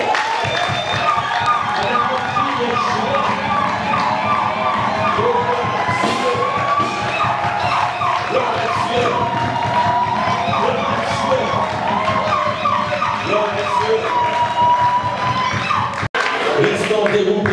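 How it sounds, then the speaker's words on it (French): A church congregation cheering loudly during a worship service, a dense crowd of voices with shouts and some claps rising together, sustained and loud throughout. "Voilà pourquoi nous l'acclamons très fort."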